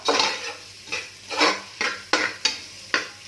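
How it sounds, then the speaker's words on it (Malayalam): Sliced onions sautéed in oil in a pan for mutton curry, about seven distinct scraping and stirring strokes of a spatula against the pan over a soft sizzle, close and without talk. "സവാള ഒന്ന് എണ്ണയിൽ വഴറ്റിയെടുക്കുക"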